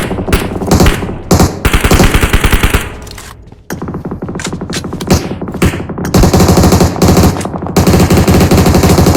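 Rapid machine-gun fire from a video game match, several loud bursts of automatic shots with brief gaps between them, followed by sustained dense gunfire.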